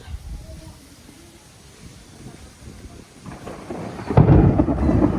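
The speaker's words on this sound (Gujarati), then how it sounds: "આ વીજળી પડે" Thunder rumbles low through steady rain, then swells into a louder, closer roll near the end.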